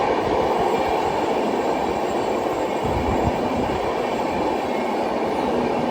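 Express train rumbling steadily through a hillside tunnel, a dense continuous roar of wheels and carriage noise that stays loud and unbroken throughout, with no voices.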